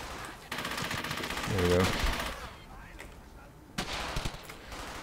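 Gunfire in the WWII shooter Brothers in Arms: Hell's Highway, rapid automatic bursts crackling through the first half, then fainter scattered shots, with a voice talking over the action.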